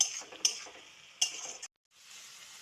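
Masala for a fish curry is stirred and sautéed in oil, with a faint low sizzle and a couple of sharp spoon clinks against the pan before a brief pause.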